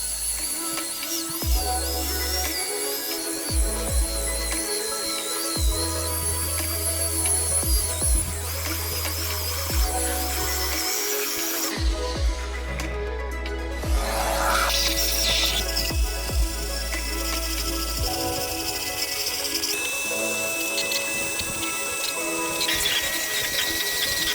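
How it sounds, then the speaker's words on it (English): A power drill with a spinning brush cleans a Citroen Xsara Picasso car seat, whirring in repeated bursts, starting and stopping, with scrubbing noises between runs; close and fairly loud, no talking. "With the brush and the drill, I remove all the trapped dirt"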